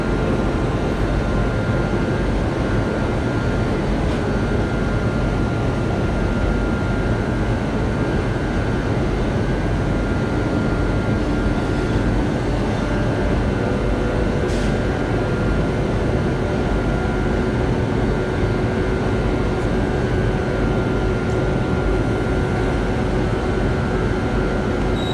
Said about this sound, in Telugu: ఇప్పుడు మన ట్రైన్ కూడా డిపార్ట్ అయ్యేందుకు రెడీగా ఉంది